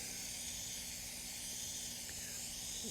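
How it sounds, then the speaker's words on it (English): An aerosol spray hisses onto a K&N drop-in air filter for an Ineos Grenadier, a steady, continuous spray hiss, close and unbroken for a few seconds, with no talking over it. "what you want to do is spray on each of these crowns"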